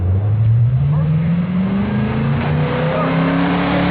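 2010 Camaro with a Borla Aggressive exhaust revving, a loud deep engine note climbing steadily in pitch as it accelerates, close and continuous.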